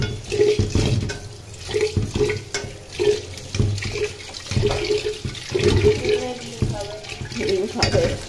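Water used to wash rice splashes and pours out steadily for watering plants at a relative's home, a close and continuous sloshing with uneven surges throughout.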